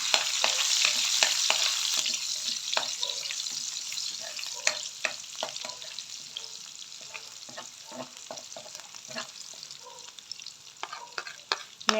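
Garlic sautéing in a pan for ginisang ampalaya, a bright sizzle of frying oil with repeated sharp scrapes and clinks of a spatula stirring, fairly close and steady, tapering slightly toward the end.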